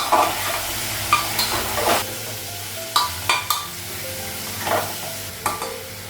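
Cumin seeds and onion frying in a pan for a Bengali papaya and potato curry, a low sizzle broken by several sharp metallic scrapes and clinks of a spatula against the pan, close by.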